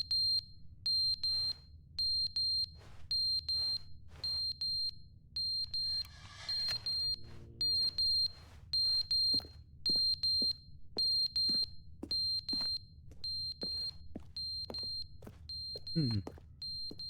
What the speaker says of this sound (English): I wonder what the beeping is.